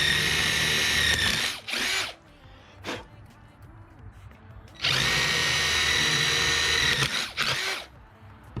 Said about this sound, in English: finish drilling the hole through so the bolt can go through